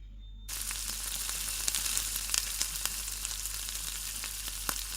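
Cumin seeds sizzling in 7 to 8 tablespoons of hot peanut oil for pav bhaji: after a brief quiet start, a loud, dense, continuous close-up frying hiss with small pops and crackles throughout.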